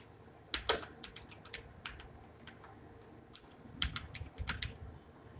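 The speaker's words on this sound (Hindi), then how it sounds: "यहाँ पे जो भी आप टाइप कर सकते हैं यहाँ पे टाइप कर लीजिएगा" Typing on a computer keyboard while writing a resume in MS Word, with irregular bursts of sharp clicking keystrokes that come near and alone, with no talk.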